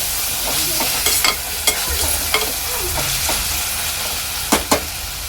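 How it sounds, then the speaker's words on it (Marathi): Onions frying in oil with ginger-garlic paste for egg biryani, stirred with a spoon, giving a steady sizzle broken by several clear scraping and clinking stirs in a close, busy pan. "अद्रक लसूणची पेस्ट चांगली कांद्यात मिक्स करून घ्यायची आहे।"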